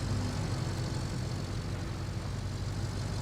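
A truck engine in the Roadcraft video game runs at a steady idle, a constant broadband rumble with no change in pitch and no speech over it.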